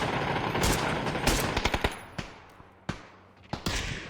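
Rapid gunfire from a shooting video game, a dense burst of shots followed by scattered single sharp reports, loud and close with no talking.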